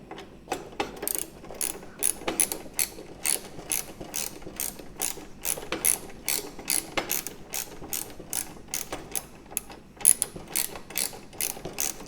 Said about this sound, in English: You can put the wrench down here and socket up here. This one needs to go a long ways as well.